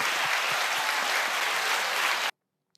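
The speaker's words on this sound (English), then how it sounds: "Clap it up for Andrew Tate" Audience applause on a podcast, a dense, steady wash of clapping sustained for over two seconds before stopping abruptly into silence.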